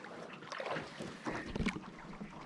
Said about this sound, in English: It's all you hear is the paddling of the boat.